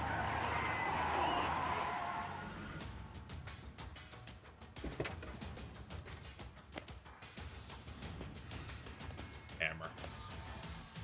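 Car tires skidding and screeching in the Like A Dragon: Gaiden video game, a loud squealing slide up front that gives way to engine rumble, impacts and scattered clatter, with game dialogue and a voice over the top.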